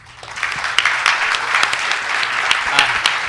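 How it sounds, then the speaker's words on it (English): Loud audience applause after a Pennsylvania Libertarian Party candidates' debate, a thick swell of clapping rising at the start and holding steady, with faint voices mixed in underneath. "I think the candidates all deserve a round of applause"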